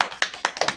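Guests clap their hands at a Hindu wedding ceremony, a brief scattered burst of several sharp claps close by.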